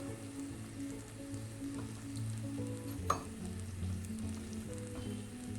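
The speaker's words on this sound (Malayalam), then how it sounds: "ഇത്രയും ചേർത്ത് ഈ ഓയിലിൽ ഒന്ന് മൂപ്പിക്കാം" Ground turmeric, chili, Kashmiri chili, coriander and pepper powders frying in oil for a black pomfret fish curry, giving a steady soft sizzle with one brief sharp tap midway.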